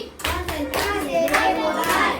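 An elementary classroom of fifth-graders performs a rhythmic concentration clap, a patterned burst of hand claps with children's voices mixed in, loud and close throughout.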